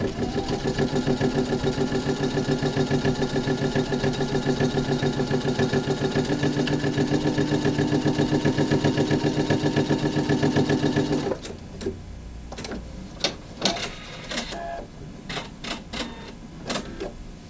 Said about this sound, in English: it's going to run what they call a tack down stitch